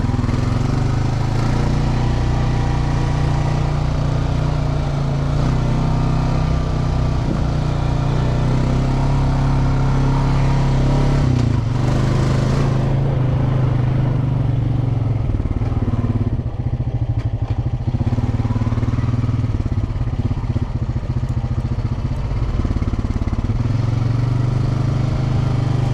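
Straight-axle off-road machine riding a rough intermediate-to-difficult trail in the Hatfield-McCoy trail system: a steady, loud, close engine drone runs throughout with some clatter over the bumps and no talk.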